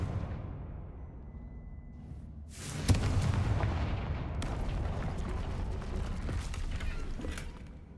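A Confringo fire spell from Hogwarts Legacy bursts in with a sudden loud blast that follows a low rumbling bed, then a sustained crackling, roaring wash with scattered sharp pops.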